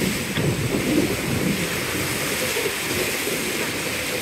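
Water sprays and splashes over riders on a water attraction at Futuroscope, a steady broad rushing and hissing wash that stays loud and continuous throughout.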